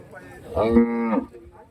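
A native cow at a weekly Sunday livestock market in Santhipuram, Andhra Pradesh, lets out one close, clear moo that swells and fades.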